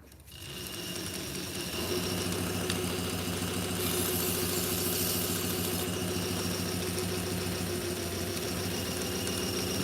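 Knife sharpening machine with an adjustable-speed motor running a leather strop at about 1400 RPM, a steady continuous mechanical whir and hum that holds evenly and fairly loud throughout, with no talking.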